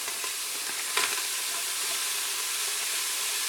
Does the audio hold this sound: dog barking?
no